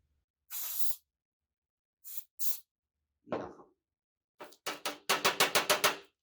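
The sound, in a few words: cooking spray sprayed onto spoon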